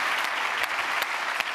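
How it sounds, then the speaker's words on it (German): Steady applause from a television studio audience, dense clapping throughout with a few sharper claps standing out. "Applaus."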